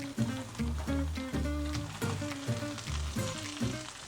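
A thick-cut bread slice fries in melted butter for a sloppy joe grilled cheese, with a soft sizzle under a loud, rhythmic tonal pattern that repeats throughout.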